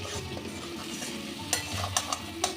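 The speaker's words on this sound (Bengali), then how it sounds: "মাছটা দিয়ে আমি একটু কষিয়ে নেব" Marinated rohu fish pieces frying with roasted eggplant in a hot pan, a steady soft sizzle under several sharp scraping stirs of a spatula, close and fairly quiet.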